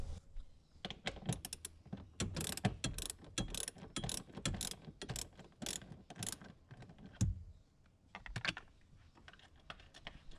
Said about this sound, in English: So I'll just get the rest of this bolt off and we'll get the bracket on.